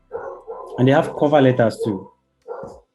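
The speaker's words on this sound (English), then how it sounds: "sorry about the background barking noise" A dog barks in the background of an indoor class recording, sharp yaps and barks mixed in with a person speaking nearby, with a short bark after a pause.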